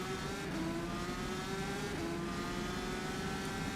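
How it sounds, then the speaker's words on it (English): A Formula 3 race car in rFactor 2 drives on board at Autopolis International, its engine droning at high revs with a steady buzzing whine and small throttle dips, loud and continuous with no talk. "You can just hear how many different applications of throttle they're having to make"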